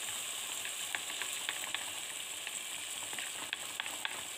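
Strained tomatoes hitting hot onions in a pan, giving a steady, fairly quiet frying sizzle with scattered small pops and crackles and no talking.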